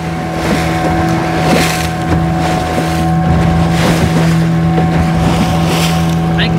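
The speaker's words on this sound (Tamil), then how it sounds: "அப்படியே போட் ரன்னிங்கில் வருது பாருங்கள்" Fishing boat out at sea during a yellowfin tuna trip, its engine droning steadily with a low hum and whine, wind buffeting the microphone and water rushing alongside, loud and continuous.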